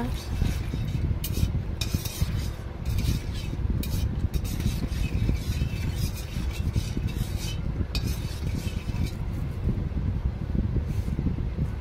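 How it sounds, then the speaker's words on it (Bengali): Bay leaves, dried chillies and panch phoron are stirred in hot oil, giving close, rhythmic scraping and clinking of a spoon against the pan over a low sizzle and a steady background hum. "পাঁচ ফোড়ন দিয়ে একটু নাড়াচাড়া করুন"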